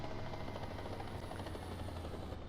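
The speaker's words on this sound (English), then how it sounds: "Helicopters are rudely loud." A helicopter in the combat game War Thunder thrums with a loud, continuous rotor chop over a steady engine roar, close and unbroken with no voices.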